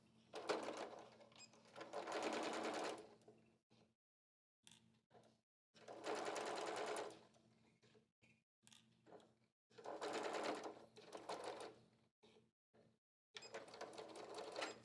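A sewing machine stitches a skirt seam, backstitching in reverse, in four separate bursts of a couple of seconds each, with short pauses and small handling clicks between them, close and clear.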